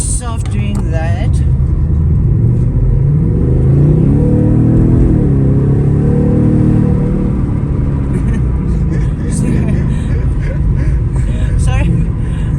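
A Ford Mustang GT 5.0 in Sandton, South Africa, revving loudly nearby, its deep engine roar rising and falling for several seconds while people talk over it.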